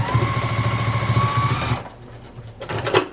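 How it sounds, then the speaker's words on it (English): A sewing machine back stitching a fabric teddy bear seam runs in a fast, steady whirring rattle for nearly two seconds, then stops, leaving brief lighter mechanical clicks close by. "I'm back stitching on both sides when I start and when I finish"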